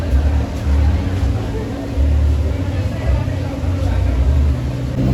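A Benelli 600i motorcycle idles close by with a deep, throbbing engine rumble that swells and eases in waves, while people talk over it.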